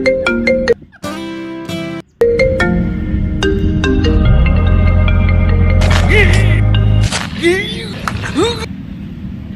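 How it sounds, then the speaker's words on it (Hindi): A mobile phone ringtone plays a loud, tonal electronic melody with shifting notes and brief gaps, while voices and background noise mix in around it. "फोन आई है"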